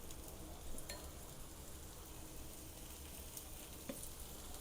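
Paneer corn paratha sizzles steadily in ghee on a hot pan, a constant close crackling fry with a few small pops and no voices.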